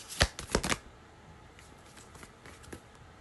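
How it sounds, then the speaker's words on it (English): Oracle cards being shuffled and pulled from the deck, heard as a few quick, crisp riffling bursts up close, followed by softer scattered flicks and slides of cards. "I'm gonna pull 3 cards from the Oracle."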